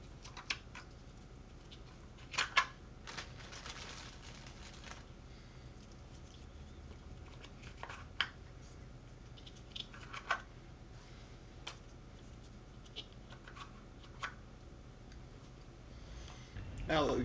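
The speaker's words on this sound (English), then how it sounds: "you just push into the other side to load the other side" Foam darts are pressed one by one into a Plusblow blaster's double magazine, giving scattered small plastic clicks and snaps at close range over a quiet background, with a brief rustle near the end.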